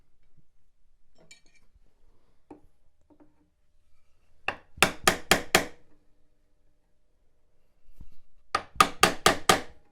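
Sharp wooden knocks from hammering a dovetail joint in woodworking: a quick burst of five close blows, a pause, then another burst of about five hits, with faint handling taps between.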